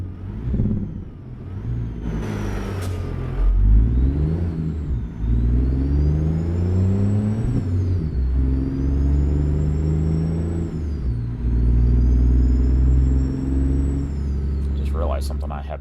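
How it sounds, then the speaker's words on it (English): A Western Star truck engine in American Truck Simulator drones loudly, rising and falling through gear changes with a whining tone, as someone talks over it. "This engine is a bit louder than I would care for when I have the volume turned all the way up."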